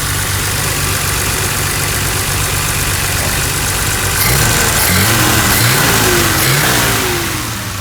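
A 1973 BMW 3.0CS automatic idles with a steady, even hum after idle, choke and timing adjustment, then is revved in several short blips that rise and fall, loud and close.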